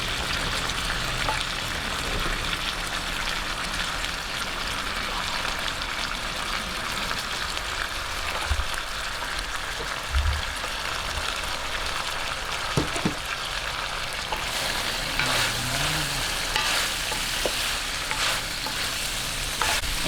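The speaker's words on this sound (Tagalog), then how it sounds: "gisa-gisahin lang po natin itong ating carrot ng 1 minute" Carrot sautéed in a pan for pancit miki guisado sizzles and fries steadily, with occasional stirring scrapes and clinks over a continuous hiss.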